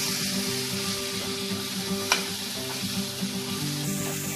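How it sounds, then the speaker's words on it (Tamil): Onions sauté in a pan for a South Indian cauliflower kuzhambu, giving a steady close sizzle with a faint hum underneath and one sharp click midway. "வெங்காயம் நல்லா வதங்கட்டும்."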